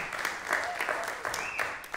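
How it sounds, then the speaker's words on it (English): Applause from a live concert audience in a theater, a brief burst of clapping under a high whistle and a voice talking over it. "why don't you give yourselves a round of applause?"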